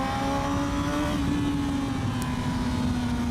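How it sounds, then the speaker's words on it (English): A Kawasaki ZX6R 600cc sport motorcycle riding a Spanish road, its engine droning at a steady high pitch, close and loud under rushing wind noise. "Here's Mr. Roots on the Kawasaki ZX6R"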